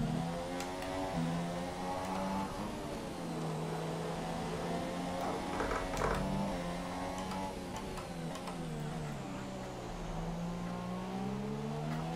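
Red Bull Formula 1 car engine from the F1 2017 racing game at Australia, revving steadily in high, rising and falling pitches for the whole stretch, loud and continuous with no talk over it.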